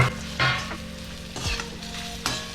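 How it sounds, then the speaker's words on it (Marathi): Fried peanuts, coconut and curry leaves are stirred into chivda in a pan, giving a loud, close sizzle with repeated scraping and tossing strokes and no speech. "नंतर ह्यामध्ये आधी तळलेले शेंगदाणे, खोबरा आणि कढीपत्ता हे मी यात मिक्स करतोय."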